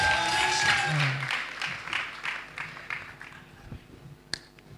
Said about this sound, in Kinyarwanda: Amashyi menshi cyane kuri Andy